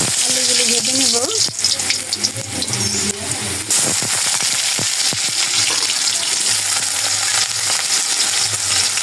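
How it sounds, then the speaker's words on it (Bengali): Potatoes frying in a wok, a steady close sizzle running throughout with stirring scrapes and brief bursts of a voice speaking over it. "এখন আলুগুলো ভেজে নেব।"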